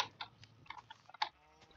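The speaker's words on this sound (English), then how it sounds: "some new baby sheep." Baby sheep in a video game let out a quick series of short, thin bleats, scattered and uneven, fairly close and moderately loud, with no one talking.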